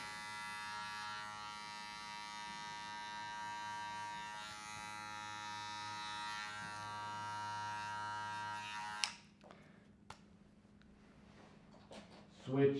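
Electric hair clippers buzz steadily at close range while trimming the nape for a short pixie cut, running continuously for about nine seconds before switching off, followed by a few faint handling clicks.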